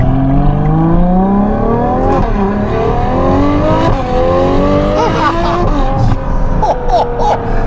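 Novitec-tuned Ferrari 12Cilindri with a naturally aspirated V12 and Inconel exhaust revs loudly and close by, its note climbing through the rev range in several rising pulls, with brief drops between shifts.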